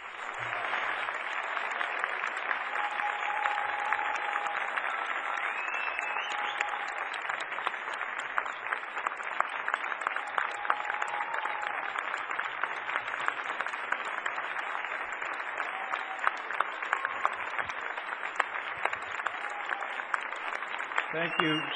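A long, steady round of applause from an event audience welcoming Congressman Adam Schiff at the Glendale Armenian Genocide commemoration, dense and sustained at even loudness, with a faint voice briefly over it.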